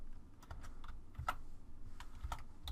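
Fingers tapping on a computer keyboard to enter a name for a virtual machine, a quiet run of irregular, close keystrokes with short pauses and no voices.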